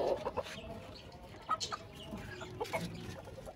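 Several short clucks from an Aseel chicken, scattered and fairly close, over a quiet rustling background.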